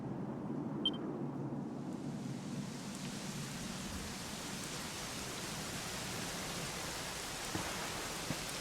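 Steady rain falls in a scene from the video game Dragon Quest XI, a continuous broadband hiss with a low rumbling undertone and a brief bright chime near the start, without any voices.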